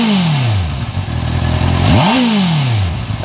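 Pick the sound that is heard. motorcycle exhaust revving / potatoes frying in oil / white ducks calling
motorcycle exhaust revving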